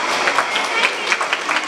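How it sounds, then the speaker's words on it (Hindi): Loud applause from a gathered audience, a dense patter of many hands clapping with slight surges, sustained across the short stretch. "एक बार जोरदार तालियां हो जाए"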